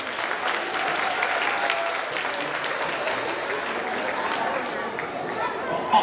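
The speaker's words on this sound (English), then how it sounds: "Round of applause for our school board." An audience at a school district meeting applauds the school board with sustained, moderately distant clapping, mixed with crowd chatter and voices.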